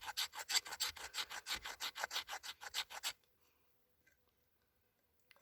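A heavy Becker BK2 knife with a 90-degree spine scrapes fine shavings from wood in a quick run of about a dozen rhythmic, rasping strokes, close and crisp, then stops, leaving near silence.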